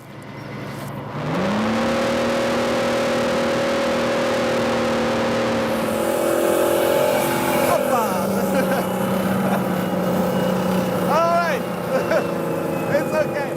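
An M113 armored personnel carrier with a 6-cylinder gasoline engine driving, a loud steady engine drone that rises as it gets moving and shifts pitch partway through, with talk over it.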